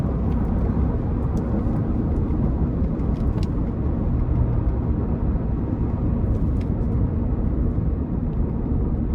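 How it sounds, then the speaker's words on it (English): Steady broadband road and tire roar fills the cabin of a 2019 Ford F-150 XLT V8 pickup truck on the move, a constant low rumble with faint higher hiss, continuous and even throughout with no talking. "Tires are a bit loud to me"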